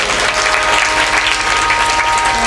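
An audience at a Shrimad Bhagavat Katha gathering gives a pandit loud, dense applause that stays full and steady throughout.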